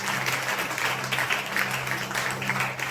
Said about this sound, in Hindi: ताली बजाओ, उसकी तारीफ करो जोर से।